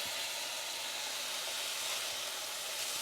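A hamburger steak sears in a hot pan, giving a steady, close, loud hiss of sizzling fat that stays even from start to finish with no talking.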